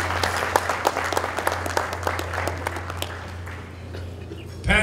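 An audience at a conference talk on inclusiveness and democracy claps steadily, dense hand claps filling the room for several seconds before fading, then a brief louder burst at the very end.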